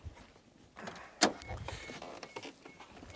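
Full-size jeeps being boarded for a backcountry trail run in Kane County, with one sharp, close car door thump rising out of soft rustling and a faint mechanical whir.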